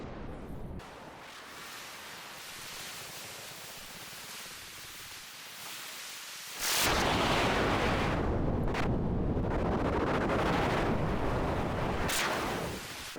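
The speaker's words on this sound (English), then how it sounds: "a couple really large explosions on the interior of the Borg Cube right there" Rumbling Star Trek video game explosions inside a Borg Cube build into a loud, dense roar with several sharp blasts cutting through, sustained for many seconds without talk.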